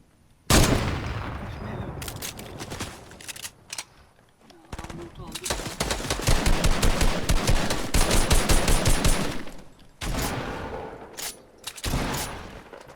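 Rapid automatic gunfire bursts from the video game Fortnite, loud and dense, with a few brief pauses and a voice talking over the shooting.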